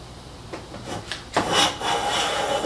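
A freshly sharpened hand plane cuts wood in a few rasping strokes, each a close scraping swish of shavings peeling off, the last one longer and steadier.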